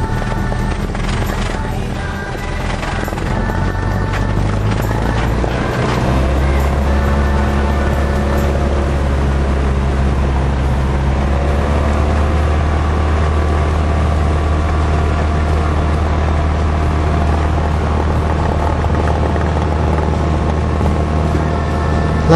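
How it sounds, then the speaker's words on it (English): A small plane's engine drones steadily and loudly while taxiing along a runway toward takeoff, a continuous low hum with shifting tones and no speech. "As we taxi back to the end of the runway to take off"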